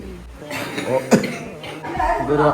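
A single sharp cough rings out close by amid talking voices, with people speaking before and after it.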